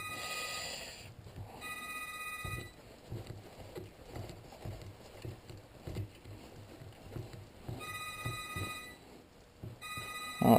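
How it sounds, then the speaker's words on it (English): A telephone rings in a workshop, sending out repeated electronic trilling bursts with quiet gaps between them, loud and near, over faint background clatter and hiss. "Oh good, the phone again."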